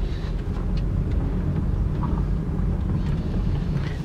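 A 2014 BMW X1 making a slow U-turn, its engine a steady low rumble under continuous road and wind noise from inside the cabin, no voices.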